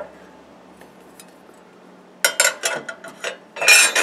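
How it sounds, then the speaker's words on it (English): A metal plate from a Toshiba rear projection TV is set back in place, giving a quick run of sharp metallic clanks and rattles close by after a quiet stretch. "I might put this metal plate back on"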